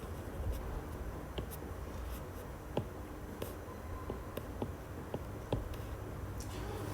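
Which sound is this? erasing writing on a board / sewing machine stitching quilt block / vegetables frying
erasing writing on a board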